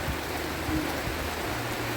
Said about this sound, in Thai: ตกหนักเลยครับ ทั้งฝนทั้งลมนะครับ